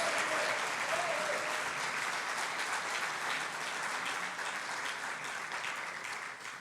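Sustained applause from a church congregation giving praise to God, a thick and even roar of many hands that holds strong before easing slightly toward the end, with no voices on top.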